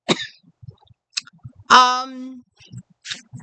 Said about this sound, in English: we're going to end the month with me still coughing